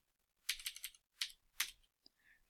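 Computer keyboard typing while coding Python in ArcGIS: several quick bursts of close, crisp keystrokes separated by short pauses, ending with a single faint tap.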